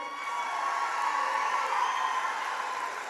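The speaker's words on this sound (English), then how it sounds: "Yes, you can applaud." Graduation ceremony audience applauding as Master of Business Administration graduates take their positions, a steady dense wash of crowd noise holding at even loudness throughout.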